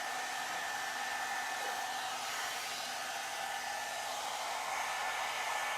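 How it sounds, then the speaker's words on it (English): A Le Volume 60 mm two-in-one brush dryer blow-dries short curly hair with a loud, constant airy roar and motor whine that runs unbroken from start to finish, close by. "it's faster than actually just blow drying your hair"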